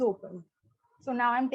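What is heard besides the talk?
None of the usual background noises is heard.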